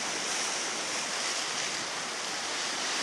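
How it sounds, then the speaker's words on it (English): Ocean surf surging in and out against big rocks at the foot of high sea cliffs, a steady broadband roar with wind that stays constant and loud throughout, no voices. "the ocean's coming in and out, banging up against those big rocks"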